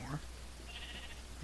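A sheep bleats faintly in the Minecraft modpack FTB Infinity Expert, a brief call partly under steady background noise and voice.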